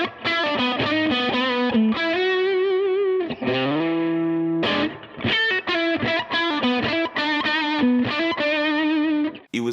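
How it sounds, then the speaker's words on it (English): Electric guitar played through a small amp with a broken-up, overdriven tone, ringing chords and melodic bends with chorus-like shimmer, continuous and close for the whole stretch. "it had that cool living room sort of broken up sound that you can only get from a small amp"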